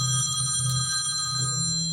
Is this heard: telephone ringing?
yes